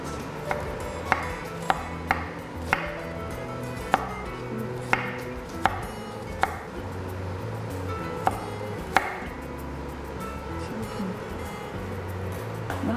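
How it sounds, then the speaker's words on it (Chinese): A knife slices garlic cloves on a board while shrimp are prepped for a white wine garlic stir-fry: a dozen or so crisp, close chops in an uneven rhythm, with no other sound around them. "然后就是先把这个蒜头切片，"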